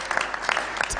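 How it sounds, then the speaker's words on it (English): At a diaspora homecoming convention, an audience claps briefly for a county official walking up, a short burst of dense clapping over a steady room hum. "give a round of applause as she comes over"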